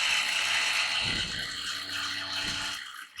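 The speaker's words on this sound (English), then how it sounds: "On inside cuts, I rotate the rotary table counterclockwise to avoid chatter." A rotary table on a milling machine turned by hand during inside cuts, giving a steady ratcheting, geared mechanical whir with a few low knocks, heard close and alone for about three seconds.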